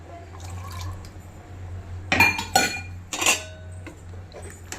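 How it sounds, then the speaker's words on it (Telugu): Water poured into a cooking pot of masala paste made with cashews, poppy seeds, coconut and garam masala, heard as a few close, brief splashing and clattering bursts against steady low kitchen hum. "ఈ మసాలా నీళ్ళు పోసి"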